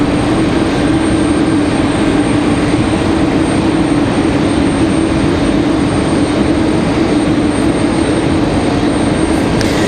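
A JetBlue Vacations livery jet roars steadily and loudly at a stormy Raleigh-Durham International Airport, a continuous broadband engine rush with a low hum that stays constant for the whole stretch.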